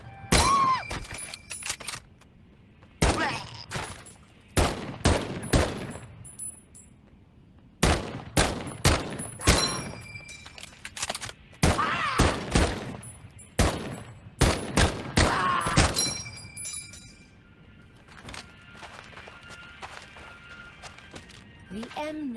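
M1 Garand rifle fire in the Medal of Honor video game: sharp single shots in irregular bursts with pauses between, along with clinks and mechanical handling sounds, and someone talking over the shooting.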